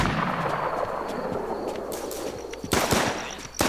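Gunshots in the survival shooter game Infestation: Survivor Stories, with a rough bed of background noise and a cluster of sharp, loud cracking shots near the end.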